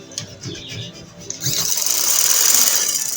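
A sewing machine stitches a folded fabric hem on a maxi dress, starting after a spoken line and then whirring loudly and steadily until the end.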